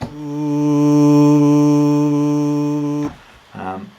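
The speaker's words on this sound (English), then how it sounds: "so it'll slowly fade up and then drop down to a lower sustain level." A sustained synth vocal pad with a slow attack swells and holds a steady chord for about three seconds before cutting off, then a short softer note follows.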